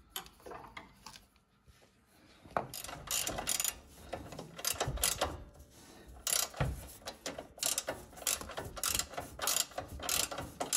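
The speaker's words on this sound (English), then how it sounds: "Ratcheting wrenches make the job so much easier, especially in these really small spots" A ratcheting wrench turning bolts on the rear control arms of a vehicle, with rapid clicking ratchet bursts in irregular runs, close and fairly loud, pausing between strokes.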